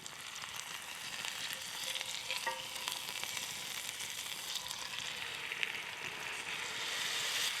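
Steak fries in butter in a pan at a hot campsite as it is flipped, giving a continuous, even sizzle with a soft hiss at moderate distance and no talking.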